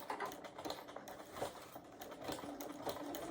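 Sewing machine stitching fabric, a close, continuous rapid mechanical chatter running steadily throughout at low overall level.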